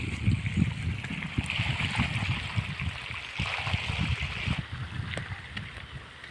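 Pumped irrigation water rushes steadily along a field channel beside a cucumber patch in a village, a continuous close gurgling flow with some wind noise.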